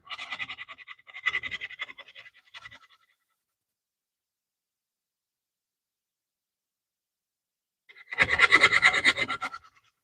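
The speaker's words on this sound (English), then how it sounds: "So I got some better sandpaper to use on that thin part here." Sandpaper rubbed across thin willow wood: a few quick scratchy strokes in short bursts, then silence, then one louder sustained rasping pass, close and alone.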